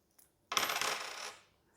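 Coins from a coin purse are poured and shuffled while being counted, producing a short burst of bright metallic jingling and clinking that fades after about a second, quiet and close, with no voices.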